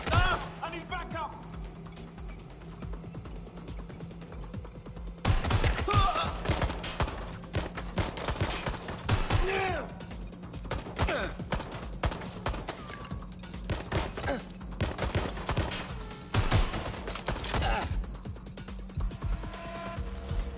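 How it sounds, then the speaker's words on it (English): Gunfire in Watch Dogs Legion, repeated bursts of shots in several clusters across twenty seconds, fairly close, mixed with game ambience and occasional voices. "Target is firing."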